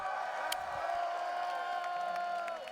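A crowd at a Tekken 8 fighting game tournament cheering and whooping steadily, a dense, sustained roar of voices from a large audience.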